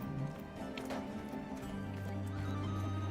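Horse hooves clip-clopping with a neigh early on in Oblivion, a steady medium-distance trot under low game ambience and music, no talk.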